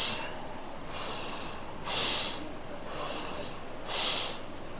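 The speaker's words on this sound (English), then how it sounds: "Now deep inhale." Deep nasal inhales during yoga breathing practice, four slow breaths in a steady rhythm with the second and fourth stronger and louder, airy and close with no talking.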